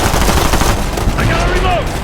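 Video game gunfire in a close-quarters firefight, dense rapid bursts of automatic shots loud and near, with people talking over the action.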